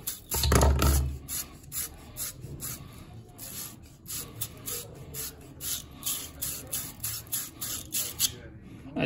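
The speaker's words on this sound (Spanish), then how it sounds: "Vamos a acabar de lijarlo" Steady back-and-forth rasping of sandpaper scraping a plumbing pipe before soldering, rhythmic strokes continuing throughout after a brief thump at the start.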